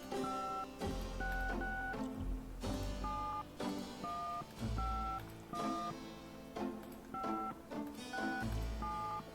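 A house phone dialing 011 in the Gabriel Knight game: a quick run of DTMF keypad tones, each a short steady two-note beep, sounding over looping background music.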